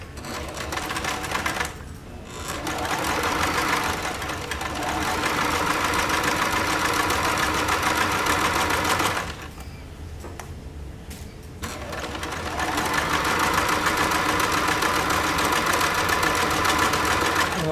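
A sewing machine stitches up the side of a project, running steadily in a loud, close mechanical whir, stopping briefly twice before resuming.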